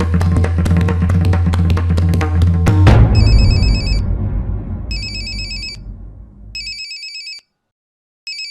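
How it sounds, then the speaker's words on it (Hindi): A telephone ringtone plays loudly and close at first as a dense melodic tune, then fades out, followed by three separate bursts of bright electronic ringing with pauses between them. "जब रिंग बजती है तो उसे उठाना चाहिए।"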